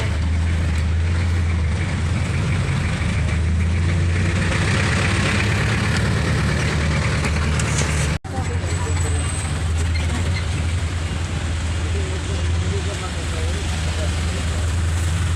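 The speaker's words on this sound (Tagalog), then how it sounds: "May motor si Kuya Jimel." A motorcycle engine idles nearby with a steady low throb that holds evenly throughout, broken by one brief dropout, with a bit of background noise around it.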